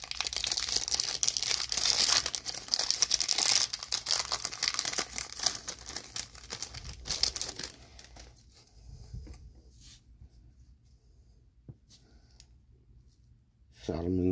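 Yu-Gi-Oh Legendary Duelists booster pack wrappers are torn open and crinkled up close, a dense run of plastic crackling that fades into quieter handling and occasional clicks before another burst of rustling.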